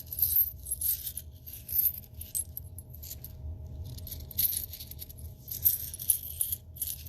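Aqua Aura quartz singing crystals are struck together close by, giving repeated bright, high chiming taps scattered through the stretch, faint against a low steady background hum.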